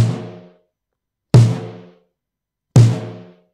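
Three evenly spaced snare drum hits, recorded with a mono microphone and compressed with an 1176-style compressor, each punchy and squashed with a short, slightly metallic decaying ring, played alone and close.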